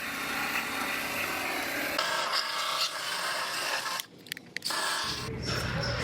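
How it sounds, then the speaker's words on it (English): Abrasive rubbing on the metal backside of a Dodge Durango rocker panel, cleaning it for spot welds: a steady rasping scrub that shifts tone partway, drops out briefly near the end, then returns. "I gotta clean off my backside where I'm doing all my spot welds across the top"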